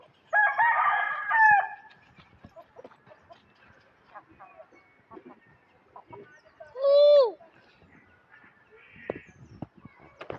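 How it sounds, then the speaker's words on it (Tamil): A rooster crows loudly, once early and again near the middle, with clucking fowl and sparse rustling between the calls, heard up close at a grandfather's rural home. "எப்படி கத்துது சேவல்?"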